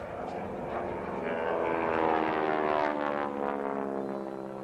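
Propeller aircraft performing aerobatics at the Wings Over The Illawarra 2019 air show, its engine drone loud and steady with a rising-and-falling pitch as it passes overhead, no voices.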